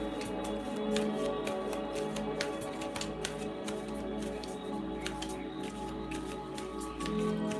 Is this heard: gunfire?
no